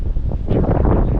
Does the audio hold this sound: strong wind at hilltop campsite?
yes